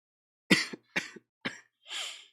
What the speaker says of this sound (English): I'm out here coughing my fucking lung up.